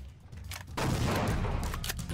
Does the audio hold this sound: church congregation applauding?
no